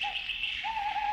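An owl calls from the hill behind, giving two soft, steady hoots, the second longer and wavering slightly, against a faint background hum.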